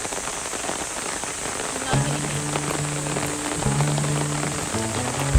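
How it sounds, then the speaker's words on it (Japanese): Heavy rain pours down at a zoo, a continuous hiss of drops on surfaces with a few low steady tones running underneath. "ただ大雨なのでみんな雨宿りしてますね。"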